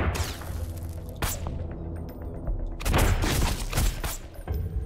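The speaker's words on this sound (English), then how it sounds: "Oh, they are shooting like crazy." Heavy gunfire in the survival game Sunkenland, with sharp bursts and booming shots during a battle on a ruins island. Loud clusters of shots are separated by brief lulls, and no one speaks.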